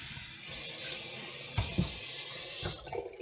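Water runs steadily from a faucet, likely filling a kettle or cup for tea, a constant hiss with a few small clunks and splashes, fairly quiet and close, with no one speaking.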